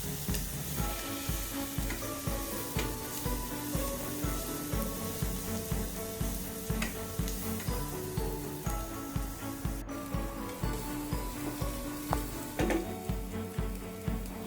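Onions sizzle steadily in a hot pan for egg fried rice while a utensil stirs them in quick, regular scraping strokes. The sizzle and stirring sound close and loud throughout, with faint tonal sounds in the background.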